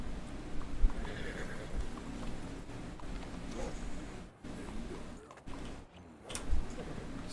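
A horse in the video game Red Dead Redemption neighs and snorts amid hoof clip-clops, fairly quiet and steady in the game's ambience, with no clear talk over it.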